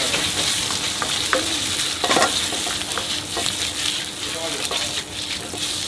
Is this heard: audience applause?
no